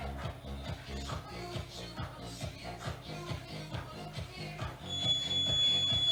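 Upbeat music thumps with a steady beat during a circuit training workout, then a sustained high-pitched electronic workout timer beep sounds over it near the end.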